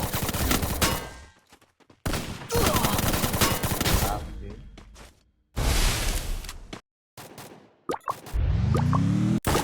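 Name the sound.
gunfire in the video game Free Fire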